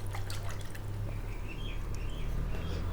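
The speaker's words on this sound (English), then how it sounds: "I'm just going to rinse that off now" Water rinsing over a stripped motorcycle fork part on a KTM project: a steady, quiet trickle and drip of running water, continuous and faint, with a low hum underneath and no talking.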